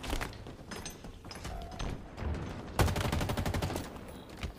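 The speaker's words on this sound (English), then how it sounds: "Giving cover fire." Gunfire in a team shooter video game: dense, rapid bursts of automatic weapons fire crackle continuously, with a heavier, louder volley erupting midway and carrying on to the end.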